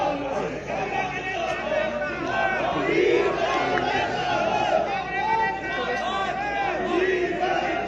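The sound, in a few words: crowd applauding at stadium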